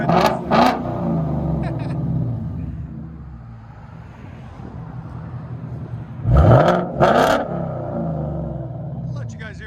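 A Ford Mustang GT with a 5.0 V8 and aftermarket exhaust revs in deep, loud bursts near the start and again around the middle, with a low rumbling idle between and people talking over it.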